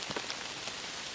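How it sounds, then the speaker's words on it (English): Rain from a quick downpour patters steadily on a surface at a car campsite, a dense, even hiss of drops close by with no voices. "Oh, I'm getting rained on or something."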